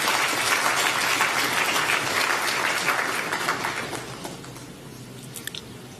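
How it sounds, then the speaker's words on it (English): A large audience at an annual members meeting of a national pension fund claps loudly and densely for several seconds, then the applause thins out and fades to scattered claps. "I want to ask members, those of you who are here representing the other 2 million, to clap for management and your board."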